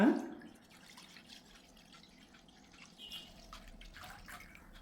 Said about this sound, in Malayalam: പാനിലേക്ക് ഒരു ലിറ്റർ ഫുൾ ഫാറ്റ് മിൽക്ക് ഒഴിച്ചു കൊടുക്കുക